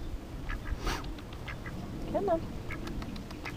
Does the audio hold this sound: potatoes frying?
no